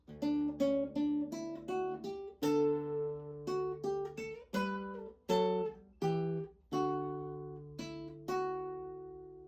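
A classical guitar plays a slow melody from Cesare Negri's Bianco Fiore in plucked notes, each ringing out and decaying before the next, some with a gentle shimmer of vibrato.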